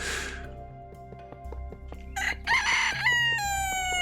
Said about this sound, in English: Just keep hearing the chicken squawking in the background there